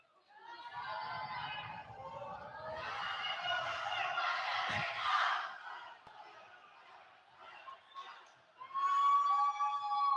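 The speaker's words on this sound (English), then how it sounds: "Canton crowd really getting into it so far." A home crowd in the Canton gym cheers and chants during a girls varsity volleyball match against Milford, a dense swell of many voices that rises, dips briefly and surges loudly again near the end.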